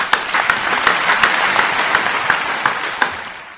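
A crowd applauds an urban Venezuelan artist during an interview, a dense steady wash of many hands with a few sharper claps standing out at a regular beat, loud and close throughout.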